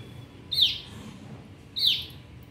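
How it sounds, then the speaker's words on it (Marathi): A pet bird kept indoors in a home with a cat gives two short, bright chirps about a second apart, fairly close and clear over a quiet room hum. "हां आपला पक्षी आहे"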